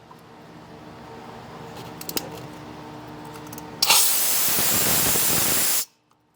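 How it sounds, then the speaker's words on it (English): Condensation blasts out of the drain valve on a Campbell Hausfeld air compressor tank as a loud, steady hiss that lasts about two seconds and then stops abruptly. Before it, quieter clicks and handling noises from fiddling with the valve. "So the first thing that I want to do is drain any condensation out of here."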